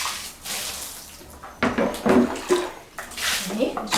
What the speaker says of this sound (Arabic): لو امكن حضراتكم تحطوا خرطوم في الحنفيه يكون اسهل، وتوزعوا الميه على طول